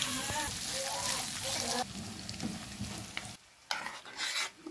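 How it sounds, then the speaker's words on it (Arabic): Julienned onions dusted with a spoonful of flour fry in hot oil, a dense steady sizzle with stirring and scraping, briefly dropping away near the end before the frying hiss returns. "هنجيب البصل بتاعنا مقطعينه جوليان بالشكل ده، حطينا عليه معلقه بس واحده دقيق، وهنحطه على الزيت"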